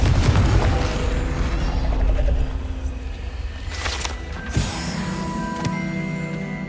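A Confringo blasting spell going off in Hogwarts Legacy, a loud rumbling burst at first that fades, followed by smaller thumps and a sharp crack with ringing magical tones.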